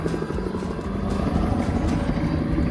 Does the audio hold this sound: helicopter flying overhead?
yes